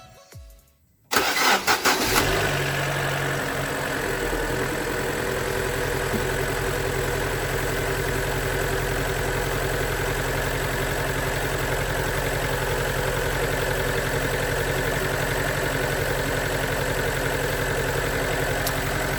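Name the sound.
car engine starting and idling roughly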